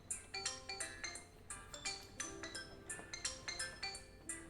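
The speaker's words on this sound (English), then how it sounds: "Oh, that's my phone." A mobile phone rings with a bright, chiming ringtone melody that repeats in quick pulses, fairly quiet and slightly distant, with no voices over it.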